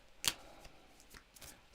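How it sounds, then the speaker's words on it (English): A deck of tarot cards is shuffled in quick riffling bursts, with several sharp flutters and soft slaps close by in a quiet room. "I feel like this needs more shuffles"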